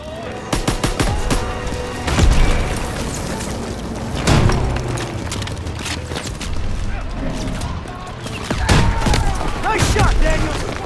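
A German rocket launcher fired at a Panzer tank in Call of Duty: WWII, booming blasts and crackling gunfire over a loud, dense battle din, with heavy impacts around the second, fourth and ninth seconds and voices talking beneath.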